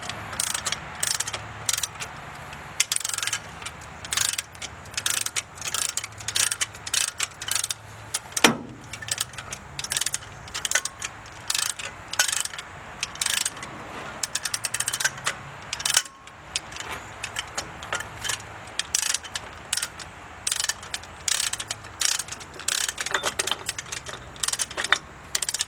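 Repeated ratcheting clicks and metallic clanks from a wrench torquing an AVM hub assembly on a Chevrolet CUCV to 50 foot-pounds while the hub is turned, a steady run of close, sharp mechanical ticks.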